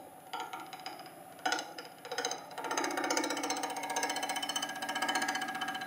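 Wood lathe turning a kuksa cup, a gouge cutting with a rapid rough chattering rasp that starts in bursts and then settles into a steady intermittent cut, fairly close and moderately loud.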